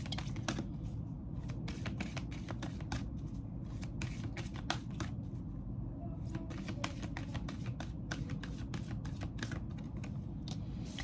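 Oracle cards are shuffled continuously up close, a rapid run of dry flicks and clicks over a steady low hum, without speech.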